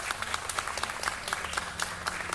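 A brief burst of dense clapping and applause, steady and lively throughout with no voices over it.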